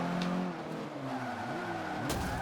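Race cars in Forza Motorsport 5 drone loudly, with tires squealing and skidding, and a sharp knock near the end as one car strikes another.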